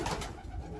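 Racing pigeons coo softly at a young-bird loft where old breeder cockbirds have just been added, a faint, low, brief murmur set against quiet background noise.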